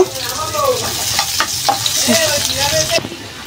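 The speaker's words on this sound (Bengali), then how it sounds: "একটু জিরে দিব, আস্ত জিরে, আর পেঁয়াজ আর রসুন কুচি দিয়ে দেব" Whole cumin seeds, chopped onion and garlic frying in oil for a lentil tempering, a loud close sizzle with stirring scrapes and a faint voice in the background.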